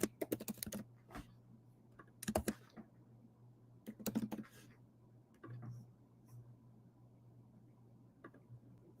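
Computer keyboard typing for a Twitter post comes in three scattered bursts of close, sharp key clicks separated by quieter gaps, with a faint murmur and low hum in the background.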